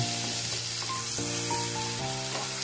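Onion fries in a pan over lowered gas for a spinach chicken dish, giving a continuous even hiss of oil throughout, with steady tonal background music playing over it.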